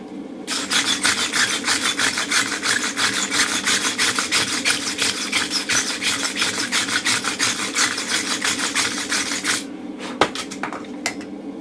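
A forged steel round punch gets scrubbed with a wire brush and then rasped, a fast, loud, even run of scraping strokes that stops abruptly near the end, followed by a couple of sharp metallic clicks.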